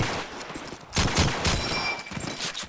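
Gunfire in a first-person shooter video game played at a tournament match, several loud close shots cracking in a rapid burst with an echoing tail.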